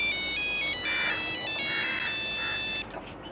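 A mobile phone ringtone plays loud and alone, a steady electronic tone pattern with shifting pitches that rings for about three seconds before cutting off in an office comedy-drama scene.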